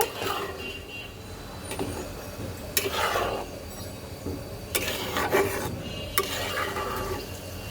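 Chicken biryani being stirred in a pot after ghee, milk and sugar go in, a spoon scraping and rasping against the pot in a few broad strokes over steady background hiss, nearby, no talking.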